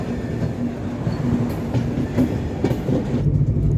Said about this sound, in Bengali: সারা রাত্রি ধাক্কা দিয়ে যাচ্ছে ট্রেন